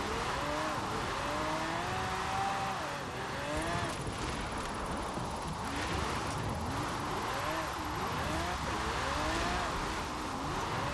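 A limo drifts sideways using the handbrake in Forza Horizon 4, its engine droning steadily with repeated rising and falling revs as the car slides through a corner, loud and continuous throughout.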